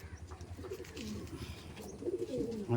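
Close, gentle cooing from Pakistani teddy pigeons, with rounded low calls rising and falling in a steady pulse that swells louder toward the end.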